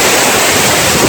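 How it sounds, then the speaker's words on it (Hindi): Rushing water at the Kashmir waterfall makes a loud, steady, close roar of dense hiss that holds without a break through the short moment. "I'm at the Kashmir waterfall."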